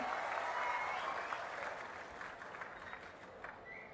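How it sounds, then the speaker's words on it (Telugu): Loud, sustained applause from a crowd at CM Chandrababu's political speech in Narsannapet, a dense wash of clapping that fades gradually over several seconds. "గట్టిగా చప్పట్లు కొట్టి వాళ్ళని కూడా మీరు అభినందించాలి"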